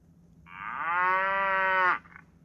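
A cow moos once on a farm, a long, loud, clear low call swelling over about a second and a half before cutting off, with no voices present.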